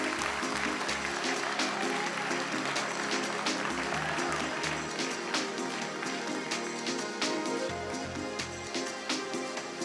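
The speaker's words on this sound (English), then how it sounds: "Let's give them a big round of applause" Sustained applause from an awards-ceremony audience for a winning brand, a dense steady clatter of many hands lasting throughout, with a low music bed underneath.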